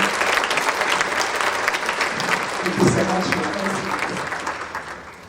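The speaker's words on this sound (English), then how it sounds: "a big round of applause for those women who have successful careers in supply chain" Audience applause at an event celebrating women with successful careers in supply chain and logistics, a steady dense clapping that fills the room throughout, with a voice briefly thanking the crowd over it near the end.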